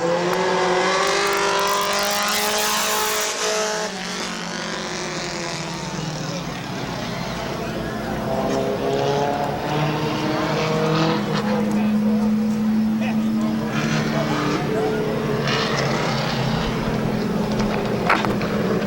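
Compact race cars at Midvale Speedway howl and rev as they race past, engine tones rising and falling under continuous announcer commentary.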